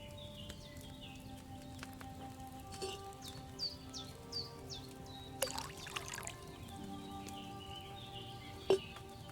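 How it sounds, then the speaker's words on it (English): Wine pours into a cauldron in Kingdom Come: Deliverance II, a soft liquid trickle set against outdoor ambience with repeated birdsong chirps, a faint hoof clop and a sharp knock near the end. "So, what did you pour in there? Wine, of course."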